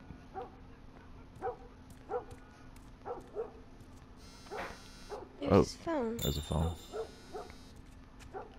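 A dog barks repeatedly in The Last of Us game, a series of short evenly spaced barks at moderate distance, with someone speaking briefly over them and a louder burst of sound near the end.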